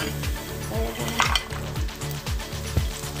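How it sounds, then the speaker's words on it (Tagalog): Roast pork sautés in a hot pan with a steady sizzle, while a utensil scrapes and stirs in a regular rhythm, striking the pan roughly every half second. "lalagay natin itong pork na roast kung saan. So let it saute for about a minute."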